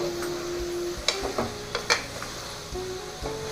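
Meal maker chunks and red lentil (Mysore dal) khichdi are stirred in a pot: soft sizzling with a few sharp scrapes and clinks of a spoon against the vessel, close and fairly quiet.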